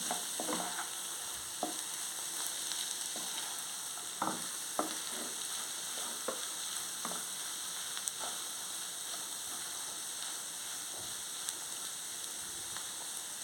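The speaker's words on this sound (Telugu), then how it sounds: "కొబ్బరి కారం వేసేసుకుందాం మళ్ళీ శుభ్రంగా కలుపుకోవాలి" Amaranth greens frying in a pan with coconut chili powder, giving a faint continuous sizzle. Scattered soft scrapes and knocks of a spatula stirring the mix come every second or two, with no voices.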